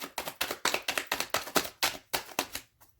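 A tarot deck is shuffled by hand close to the listener, making about a dozen evenly paced slapping taps that fade at the end, with no voices.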